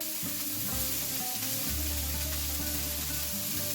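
Green beans sizzle in a hot pan with green chillies for egg fried rice over a medium flame, a continuous, close frying hiss with stirring scrapes and a low steady hum underneath, with no talk.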